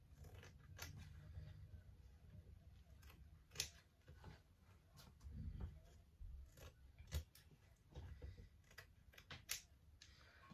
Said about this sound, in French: on prend nos ciseaux et on va découper les petits carrés